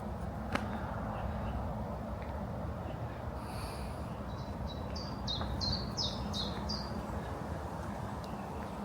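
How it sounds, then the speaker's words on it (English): Several birds chirp in short bursts over a steady outdoor background hum at lunchtime, the calls faint and somewhat distant with no talking. "It's lovely to hear the birds down here at lunchtime."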